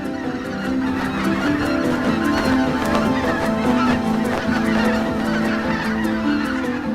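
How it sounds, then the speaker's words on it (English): Flock of resting greater white-fronted geese honking continuously near a power plant's cooling towers, a dense, loud chorus of overlapping calls with no pauses. "The towers of the power plant do not bother the resting greater white-fronted geese."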